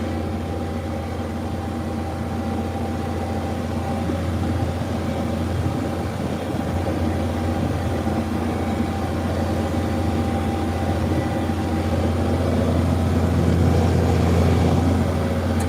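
A tractor drives through sandy orchard ground, its engine a steady, close, low drone that holds evenly throughout and swells slightly toward the end.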